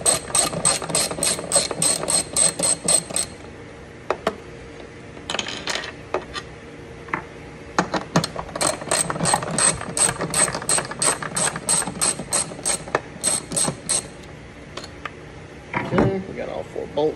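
A ratchet wrench clicks in rapid bursts while removing the four tail light bolts, with repeated close, sharp ratcheting runs separated by brief pauses and some handling noise.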